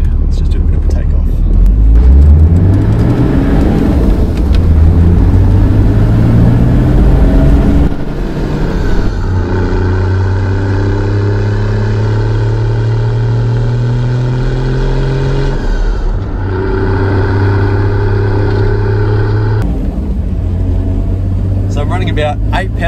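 A Toyota 1HZ diesel converted to turbo pulls away from a standstill, the engine climbing loudly through several rising gear pulls with shifts between, heard from inside the car with someone speaking over it.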